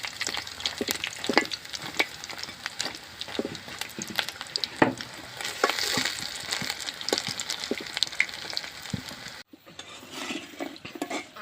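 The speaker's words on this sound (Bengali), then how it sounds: "উল্টায় পাল্টায় ভালোভাবে লাল করে ভেজে নিতে হবে।" Battered pumpkin flower fritters fry in hot oil in a pan, a continuous crackling sizzle with irregular sharp pops and occasional stirring clinks, steady and close, quieting slightly near the end.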